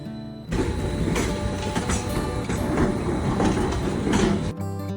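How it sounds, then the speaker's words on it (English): A Gornergrat Railway mountain train rumbles past near Zermatt with steady clattering and rattling of wheels on track, loud and close, cutting off near the end. "I think this is the train before us"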